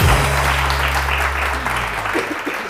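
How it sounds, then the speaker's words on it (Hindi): Studio audience applause on a morning TV show, a dense burst of clapping over a low steady hum, fairly loud and continuous, easing off slightly toward the end. "बहुत सारी तालियां उरूज के लिए"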